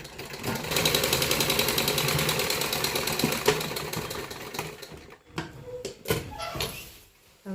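A sewing machine stitches a net kurti, running in a steady fast rattling burst for several seconds, then stopping and starting in short jerky bursts with handling knocks.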